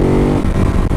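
Ducati Hypermotard 939 motorcycle with stock exhaust, engine running close and loud in one short burst, a steady throaty drone that briefly dips and picks back up.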